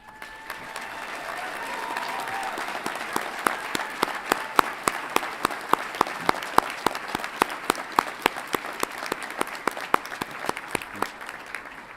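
An audience at a College of Agricultural Sciences commencement applauds faculty and staff, dense crowd clapping that builds and holds steady, with several loud, close individual claps standing out throughout.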